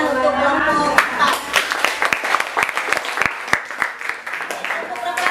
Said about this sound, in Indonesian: kita cukupkan tepuk tangan untuk kelompok 4